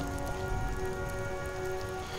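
Steady rain falls in the Skyrim video game, a dense continuous patter of drops on surfaces with no pauses, heard alone and fairly close throughout.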